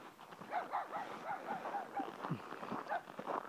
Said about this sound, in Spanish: Pero el perro me quiere morder.